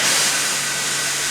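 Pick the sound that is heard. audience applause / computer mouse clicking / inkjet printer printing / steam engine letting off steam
steam engine letting off steam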